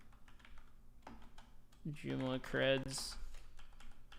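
Computer keyboard typing while notes are jotted down during a live hacking session, soft scattered keystrokes close by, with a person speaking briefly in the middle.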